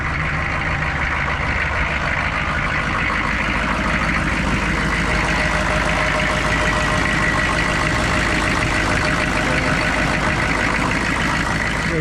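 A Chevy 6.5 diesel service truck idles close by, a steady, loud, even diesel rumble with a faint ticking knock running unbroken throughout, with no voices.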